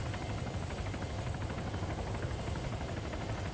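A helicopter's rotor thuds in a steady rapid beat under a constant engine drone and a thin high whine, continuous and even, in the video game Arma 3.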